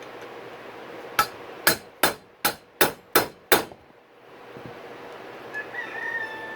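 Hammer driving a punch against a steel steering stem bearing on a dirt bike, seven sharp metallic strikes in a quick even rhythm, close and loud, followed by a quieter stretch with faint background sounds.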